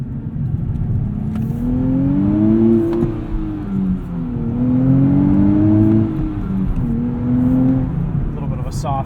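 A turbocharged 2023 Nissan Z engine heard from the cabin, revving up repeatedly in rising sweeps and easing off near a soft rev limiter, loud and close.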